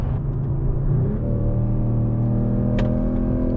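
A Mercedes-AMG CLE 53 coupe of about 449 horsepower rumbles and whirs under acceleration, a smooth steady engine tone heard from inside the car, moderately loud with no talk.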